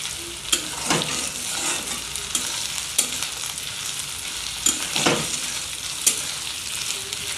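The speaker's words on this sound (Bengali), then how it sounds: "উচ্ছেটা আগে ভেজে নেব উচ্ছেটা ভেজে নিলে আগে থেকে ভালো হয়" Bitter gourd frying in oil, a continuous close sizzle broken by several sharp stirring scrapes and clinks against the pan, with no one talking.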